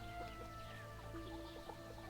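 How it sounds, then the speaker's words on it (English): Chickens clucking in the fantasy role-playing game Baldur's Gate II: Shadows of Amn, faint scattered clucks over a steady low hum of background game ambience. "Hey, chickens!"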